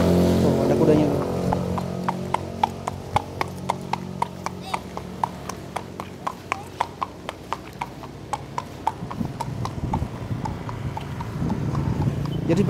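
Horse hooves clip-clopping at the Tegalwaton horse track on the slopes of Merbabu, a steady run of crisp hoof strikes passing close by over outdoor background noise.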